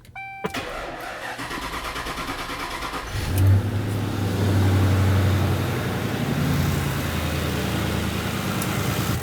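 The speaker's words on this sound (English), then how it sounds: "Start the engine." A 2003-2011 Mercury Grand Marquis engine cranks briefly after a short electronic chime, catches with a loud surge, then settles into a steady low idle.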